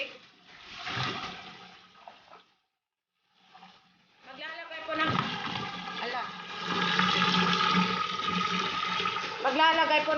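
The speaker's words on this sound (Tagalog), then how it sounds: "lagyan na natin ng tubig" Tap water running and pouring into a cooking pot that holds pork belly for lechon kawali, a steady splashing stream in a home kitchen that starts after a short pause and continues loudly to the end.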